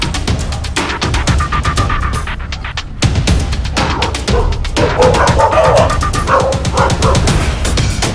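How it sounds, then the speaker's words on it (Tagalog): Two large dogs bark repeatedly in quick, irregular bursts, loud and close, with some yips mixed in over steady background noise. "Dalawang malaki nating aso magkasama, oh."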